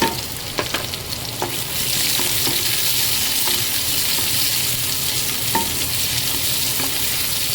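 Chopped onion fries in hot oil alongside garlic, a dense, loud, steady sizzle with occasional sharp clicks of a spoon stirring through it.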